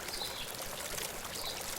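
Water pours steadily from PVC pipes into a home-built swimming pool, making a continuous broadband splashing rush with a few faint chirps above it and no talk.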